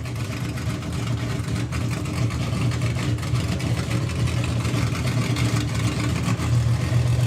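VW drag racing car engine running at Bug Jam, a steady loud mid-pitched engine drone with a strong low rumble that holds throughout, with no talking.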